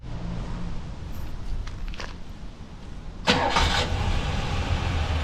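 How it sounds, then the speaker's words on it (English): A 1959 Imperial Crown engine cranks and catches with a sudden louder burst, then settles into a rough, steady idle up close after a quieter stretch of low rumble. "The way this thing starts up, it sounds like it's like I'm watching a movie or a TV show from the 60s or 70s."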